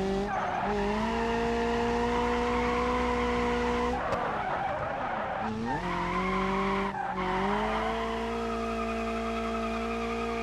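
Cars drifting and skidding in the BeamNG driving game, played on a MOZA R12 wheel: a steady, loud engine drone layered with sustained tire squeal. The pitch dips and recovers twice as the car slides, with no talk.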